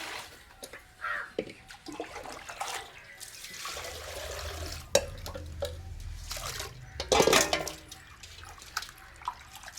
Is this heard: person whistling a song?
no